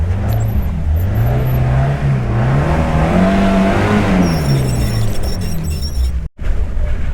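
A car engine revs hard and rises and falls in pitch as its tyres slip on a muddy forest track in rain, loud and close, with a sharp interruption near the end.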